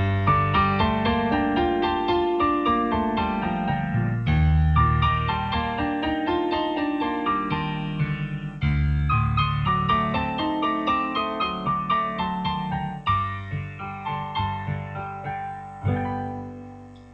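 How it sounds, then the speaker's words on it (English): An acoustic piano plays a rock-style keyboard passage, struck chords and notes decaying in clear repeated phrases of about four seconds each, loud and solo with no voices. "Here's the sound of a piano."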